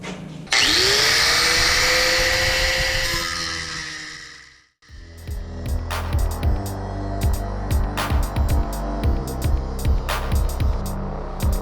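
An angle grinder running without a safety guard spins up with a loud, rising whine that fades as it winds down. It cuts out briefly, then gives way to a series of clattering knocks and handling noises, close and without speech.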